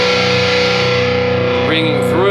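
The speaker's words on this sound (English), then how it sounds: "and then you got all this cool feedback" A distorted electric guitar rings out in loud sustained feedback, with steady harmonic tones swelling and a few pitch bends near the end.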